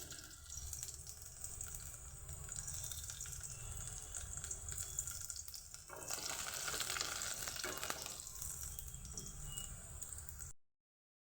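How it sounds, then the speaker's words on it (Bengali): Chopped garlic fries in hot oil for cabbage momo filling with a quiet, steady sizzle that swells into a brighter crackle midway, then cuts off abruptly to silence at the end. "তেলটা গরম হতে দিয়েছি তেল আমার গরম হয়ে গেছে এটা দিয়ে দিচ্ছি রসুন কুচি"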